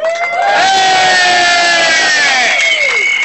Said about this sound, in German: Gebt ihm mal einen kleinen Applaus.